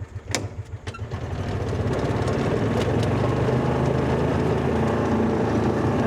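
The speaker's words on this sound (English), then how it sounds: "It's running on one cylinder." A Kawasaki engine with a suspected dead fuel pump runs rough on one cylinder, starting with a few uneven pops and settling into a loud, steady, slightly lumpy idle close by.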